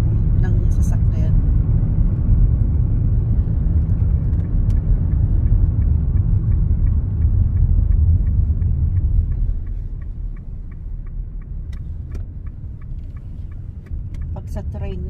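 A car travels along a road in New Zealand on an early-morning commute, giving a steady low engine and tyre rumble heard from inside that softens partway through, with faint ticking clicks above it.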